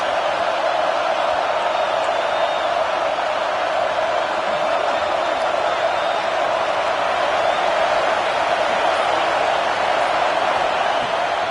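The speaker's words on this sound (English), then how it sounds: "this crowd is at fever pitch" In a college football video game, a dense stadium crowd roars steadily and loudly at a third-down play in the red zone. The sound is a constant wash of cheering with no breaks.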